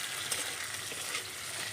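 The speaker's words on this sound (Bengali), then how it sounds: "এখানে একটা আলু একটা কাঁচা কলা আর একটা পটল দিয়ে তরকারিটাকে ভালো করে ভাজছি" Potato, raw banana and pointed gourd curry frying in a pan, giving a steady, close hiss of sizzling oil with faint crackles throughout and no talking.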